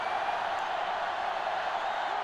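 A stadium crowd in NCAA Football 2005, at an Arkansas vs. South Carolina game, gives off a steady, dense roar of murmuring and cheering without a break.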